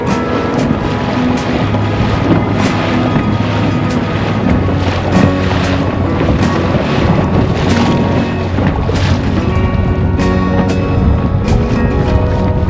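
Steady loud wind buffets the microphone while waves slap and splash against the hull of a 3D Tender 290 inflatable tender, a continuous rushing roar throughout.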